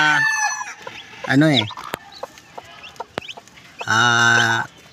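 Backyard chickens cluck close by, breaking into several loud, drawn-out squawking calls at the start, middle and end, with softer scattered clucks and clicks between them.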